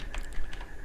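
Fingers type "My Account" on a computer keyboard in a brief burst of several quick, close key clicks over faint background noise.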